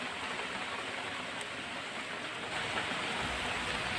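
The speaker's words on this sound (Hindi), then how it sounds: "कल रात से बहुत ज़्यादा बारिश हो रही है हमारे यहाँ" Heavy rain pours steadily, a dense, constant hiss of falling water that stays loud and even throughout with no voices over it.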